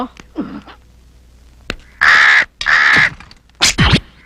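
A crow caws loudly in a few separated bursts, harsh and close, with brief quieter sounds between the calls.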